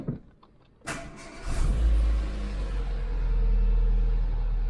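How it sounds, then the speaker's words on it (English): A car engine turns over and catches after a brief crank, then settles into a deep, steady rumbling idle close by. "So let's try starting her up now then."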